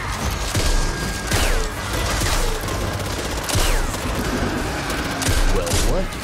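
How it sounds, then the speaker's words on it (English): A minigun in the co-op shooter video game Back 4 Blood fires loud, sustained, rapid bursts that rise and fall in waves. Other gunfire and game noise sound underneath. "Minigun!"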